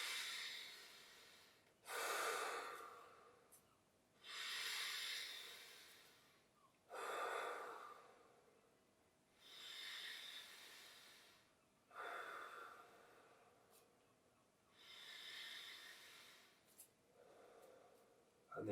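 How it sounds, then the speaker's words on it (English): Slow, deep breaths in and out during a guided yoga session, six long airy swells spaced a few seconds apart, close and fairly soft with quiet pauses between. "we'll take 3 or 4 intentional deeper breaths"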